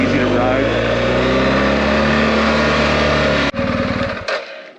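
A motorcycle being ridden on a road, its engine droning steadily with a wind-buffeted hum, then an abrupt drop and a shift in tone near the end as it changes pace.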